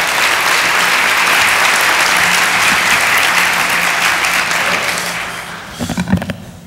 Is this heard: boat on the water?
no